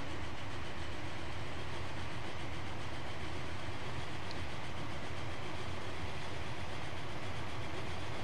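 Trains running on rails in Transport Fever: a continuous, even rumble of rolling wheels and carriages holds steady throughout, with no voices.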